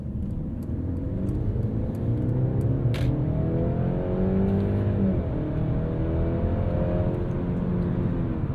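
A 2022 Mercedes-Benz C300 4MATIC sedan with a 9-speed automatic accelerates under a steady engine hum that climbs in pitch and drops back at smooth gear changes. The sound is heard from inside the cabin, with a faint tick near the start.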